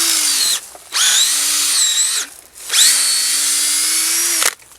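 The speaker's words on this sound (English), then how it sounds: "I'm going to drill on a slight angle, about 10 degrees to 20 degrees upward angle." A power drill bores into a maple tree trunk at an upward angle in two long, loud bursts, its motor whining at a steady pitch with a short pause between them.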